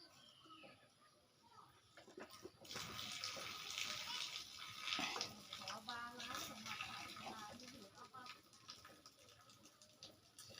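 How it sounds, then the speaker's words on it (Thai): Water poured out of a cooking pot while making om curry with rattan shoots and beef skin, a faint splashing gush that swells and trickles on for several seconds amid low background noise. "บัดนี้ก็สิได้ยินน้ำนี่ออก"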